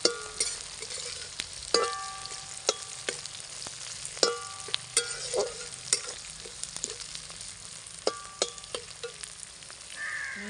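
Grated coconut and spices roast in a hot pan for a big-bean roast, with a ladle scraping and tapping in an irregular rhythm over a low, constant sizzle, close and with no speech.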